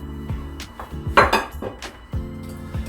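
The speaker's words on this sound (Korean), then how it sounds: "먼저 이런 예쁜 그릇이 필요해요." A pretty ceramic bowl is set down on a kitchen counter while preparing a fried rice dish, giving a few close, sharp clinks and knocks of dishware in a quiet room with no talk.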